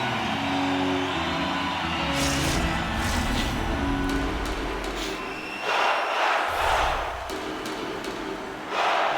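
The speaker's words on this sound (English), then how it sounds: "The chants of Go Canucks Go in the Canuck crowd" A hockey crowd at a Stanley Cup qualifier game rumbles with loud sustained chanting and cheering in an arena, rising in bursts over a continuous roar.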